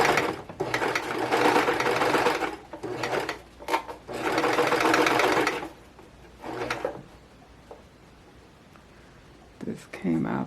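A serger sewing machine stitches fabric for a kitchen wall hanging in loud whirring bursts, two long runs and several short ones, separated by pauses with faint handling sounds.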